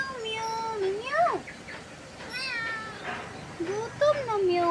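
A hungry cat meows repeatedly up close, several rising and falling wails spread across the stretch, while a person talks softly to it between cries.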